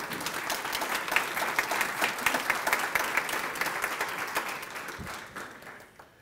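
Applause from a graduation audience at an LISD PREP Academy ceremony, steady and fairly close, a dense patter of many hands that holds for most of the stretch before tapering off near the end.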